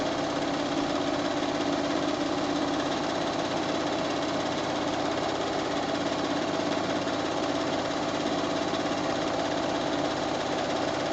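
A sewing machine runs steadily throughout, free motion quilting an Avengers-themed quilt, its close, continuous motor hum and rapid needle chatter holding an even level without pause and with no talking.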